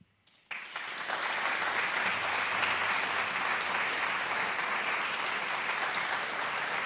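Audience in a concert hall applauding steadily after a folk-music and singing concert, a dense, sustained wash of clapping that starts abruptly and continues at an even, loud level throughout.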